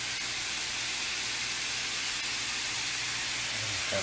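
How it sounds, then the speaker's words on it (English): Taco meat sizzling in a pan: a steady, fairly quiet hiss that holds unchanged throughout, with no talking. "You're starting to hear a sizzle, probably."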